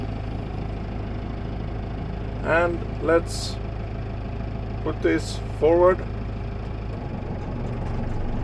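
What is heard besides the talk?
Case IH CS100 tractor engine running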